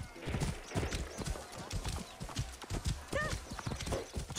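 Horse hooves clip-clopping steadily while riding in Assassin's Creed Origins, close and rhythmic with a brief whinny, under a speaking voice.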